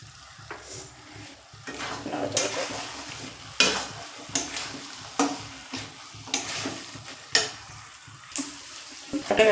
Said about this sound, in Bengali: দেখুন প্রায় ভাজা ভাজা হয়ে গেছে।